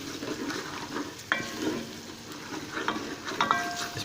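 Soft sizzling of masoor dal frying with spices in a pan, with scraping stirs and a few clinks of a utensil, close and fairly quiet, no talking.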